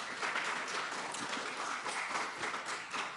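An audience claps at a congressional hearing on UFOs, producing a steady wash of applause from a sizable crowd, distant and faint, that runs unbroken throughout.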